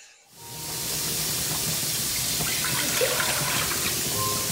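Water pouring steadily into a cooking pot while making jambalaya, a continuous close splashing rush that starts after a brief quiet moment and holds evenly throughout.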